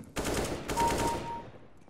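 Automatic gunfire in Counter-Strike: Global Offensive, a fast, evenly spaced string of shots in two close bursts, loud and near, tailing off quickly with no talking.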